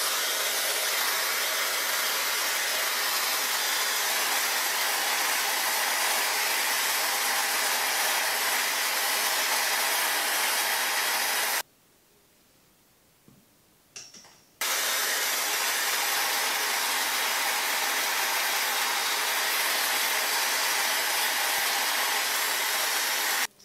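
A Dyson Airwrap hair styler blows a loud, steady broadband rush of air while styling hair, cutting out briefly near the middle before resuming at full strength.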